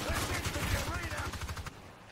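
Rapid automatic gunfire rattles in the Evolve monster-hunting game, a dense burst of quick shots lasting under two seconds before it cuts off, with voices talking over it.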